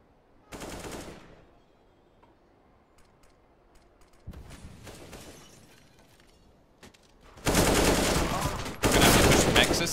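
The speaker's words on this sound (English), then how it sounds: "Able to do damage with the pistols." Pistol gunfire in a Counter-Strike esports match on the Train map comes in loud, dense bursts: a short volley early, another midway, then a sustained heavy barrage toward the end, with quieter game ambience between.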